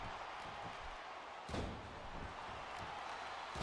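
A single heavy leg kick impact lands in the wrestling video game SmackDown vs Raw 2009, a sudden thudding slap midway through a steady crowd-like background hum.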